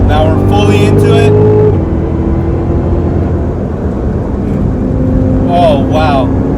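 Cadillac CTS-V engine pulling at full throttle on a backroad drive, a loud steady drone with a gear change partway through, heard from inside the car with someone speaking over it.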